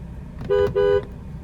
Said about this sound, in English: Very nice horn